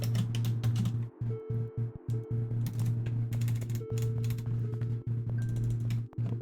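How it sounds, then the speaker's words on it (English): Fingers type on a mechanical keyboard in steady, fast clicks and clacks close up, running over a constant low hum and relaxed background music. "Love the cheap and happy sounds of typing on a mechanical keyboard."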